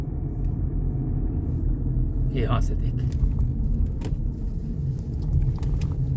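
Low steady engine rumble of a car driving at night through mountains, with brief clicks and someone speaking over the drone.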